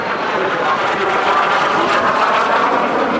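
A vintage T-33 Thunderbird jet making a fast knife-edge pass at an airshow on a windy day, a loud steady roaring whoosh sustained throughout, mixed with wind noise.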